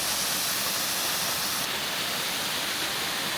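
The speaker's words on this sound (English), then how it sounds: "so there we have the waterfall" A waterfall in rural Cambodia near Angkor gives off a steady, dense roar of rushing water. The sound is close and unbroken, with no voices.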